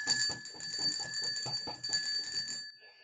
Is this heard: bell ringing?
yes